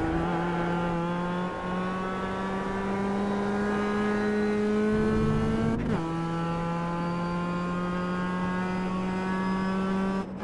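Mazda MX-5 Cup race car engine in the iRacing sim at Okayama Short, holding a steady loud drone at full throttle with a brief dip and gear change midway, then continuing evenly with no talk.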